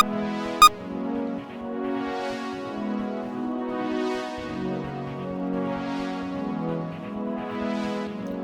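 A gentle, steady melody, the dwarf character's theme from the game Divided Dungeon, with sustained tones and soft swelling accents, playing alone at moderate volume, with one brief sharp click near the start.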